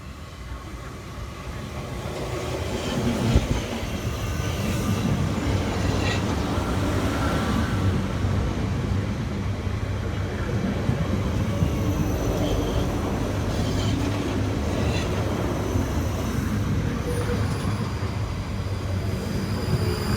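South Western Railway class 458 electric multiple units arrive at a station on the Reading to London Waterloo line, a steady rumble of wheels and motors rising and holding for about twenty seconds, with some faint clatter on top.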